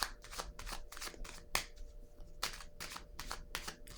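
A tarot card is drawn from the deck in quick, crisp papery riffles and flicks, close by, in repeated bursts with no talking.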